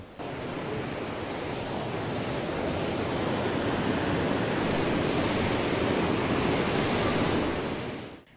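Ocean surf rolls onto a shore where fishing canoes land, a continuous broad wash of breaking waves, loud and close, with some wind mixed in and no voices.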